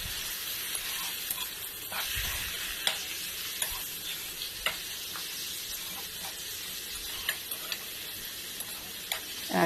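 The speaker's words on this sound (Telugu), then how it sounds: "యాడ్ చేశాక గరిటెతో ఇలా కలబెట్టాలి." Cut broad beans frying in a pan, a steady sizzle with repeated light ladle taps and scrapes scattered throughout as the beans are stirred.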